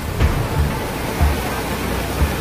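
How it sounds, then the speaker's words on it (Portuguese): Floodwater from an overflowing creek rushes through city streets in Caracas, Venezuela, after heavy rain, a loud, steady broadband roar with occasional low thumps, no voices. "A forte enxurrada arrastou veículos e causou prejuízos aos moradores."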